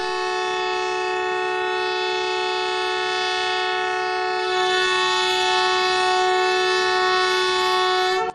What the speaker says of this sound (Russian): Главы двух государств дали старт экспортным поездам.